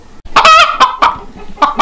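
Close, loud Icelandic chicken hens clucking in short bursts, several quick clucks in a row followed by a few more after brief pauses, on a Wyoming mountain in below-zero conditions.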